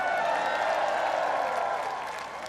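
A crowd at an outdoor address in County Mayo, Ireland, applauds and cheers for John F. Kennedy, a steady wash of clapping that holds throughout and eases off slightly near the end.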